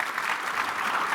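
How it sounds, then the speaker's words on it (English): Steady applause from an audience for a panel at the Canadian Club's 2020 annual outlook event, a dense, even wash of many hands clapping at moderate distance, with no voices heard. "A round of applause for our panelists."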